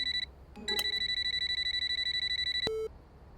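A cartoon telephone rings in a rapid, bright electronic trill, two short bursts followed by a longer steady ring, loud and close with no talking over it.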